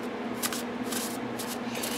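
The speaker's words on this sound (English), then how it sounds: "you can go from the corners and get a shuffle in as well." Playing cards shuffled from the corners, a soft riffling and rubbing texture in close, quiet bursts with no voices.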